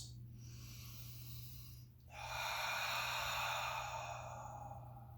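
A deep cleansing breath during a chair yoga session: a slow airy inhale, a brief pause, then a long, soft, breathy exhale up close against a quiet hum.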